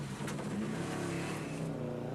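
A rally car from the 1999 Voyageurs Rally drives past, its engine loud and close with a revving, shifting pitch over a couple of seconds and no talking.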